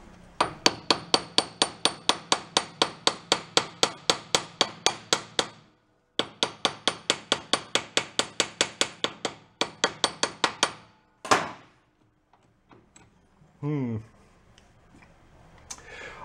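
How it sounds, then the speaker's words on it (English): Hammer tapping a seized part on a salvaged John Deere, in two long runs of rapid, steady metallic blows followed by a few scattered knocks and brief clatter, close and loud. "I'm going to tap it in."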